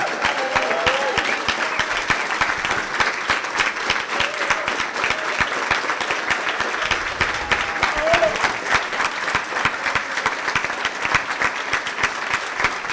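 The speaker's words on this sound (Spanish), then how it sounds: "les voy a pedir, por favor, que se paren para un fuerte aplauso" Sustained, steady applause from a standing audience at the closing ceremony of a regional Internet governance forum, dense clapping at an even level for the whole stretch with no pauses.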